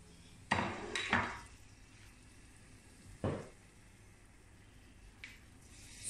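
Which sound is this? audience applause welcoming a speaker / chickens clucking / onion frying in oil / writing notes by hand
onion frying in oil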